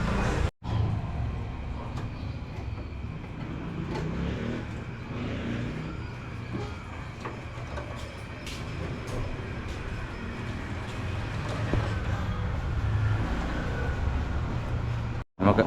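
A 2017 Toyota Avanza drives on a road test after an ABS motor replacement, its steady engine and tire rumble rolling on continuously with a low drone and faint rattles.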